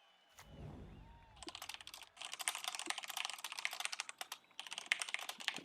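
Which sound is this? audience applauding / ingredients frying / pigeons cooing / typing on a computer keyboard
typing on a computer keyboard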